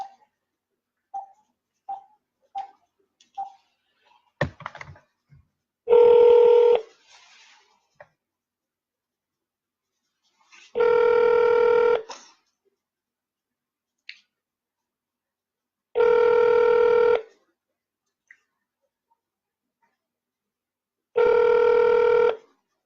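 A telephone line rings four times while a call goes out to a state representative's office, each long electronic ring separated by several seconds of silence, preceded by a few short dialing tones and clicks.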